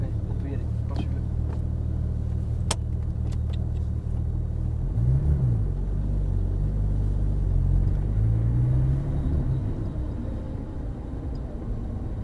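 Porsche GT3 RS engine heard onboard during laps at the La Ferté-Gaucher circuit, a steady loud rumble throughout with a rising and falling drone midway, under a voice talking.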